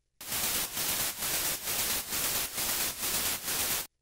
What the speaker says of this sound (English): Finally, I added a white noise to brighten up the arp.